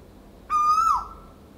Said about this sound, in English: Exploring the forest, it didn't take long until we heard the alarm clock of the jungle,